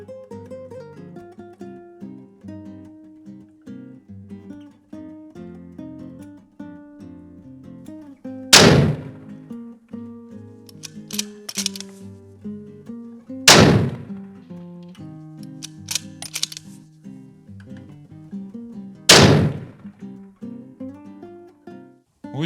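Three loud, sharp rifle shots from a Victrix Armaments Gladio fired at a target on a range, spaced several seconds apart, each a sudden broadband crack over a continuous murmur of background noise and low hum.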